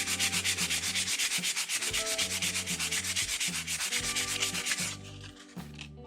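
Sandpaper rubs rhythmically across a cottonwood bark carving in quick, steady back-and-forth strokes, close and loud, then slows and stops near the end.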